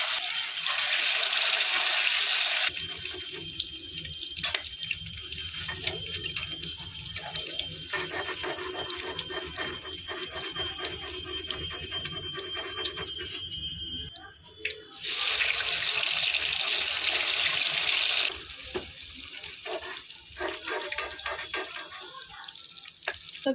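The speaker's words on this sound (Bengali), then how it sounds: "তেলটা গরম হয়ে গেছে, আমি পনিরগুলো একটু ভেজে নিচ্ছি হালকা করে।" Paneer frying lightly in hot oil in a home kitchen: a loud, close, continuous hissing sizzle that swells and eases in waves, with brief quieter gaps and faint clinks.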